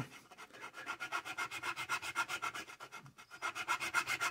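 Frets on a 1977 Yamaha SR 700 guitar being filed, with quick, even back-and-forth rasping strokes in a steady rhythm, close and clear with a brief pause midway and no speech.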